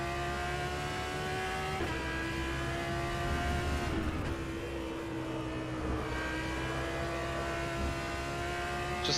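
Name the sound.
Audi R8 LMS GT3 V10 engine in video game rFactor 2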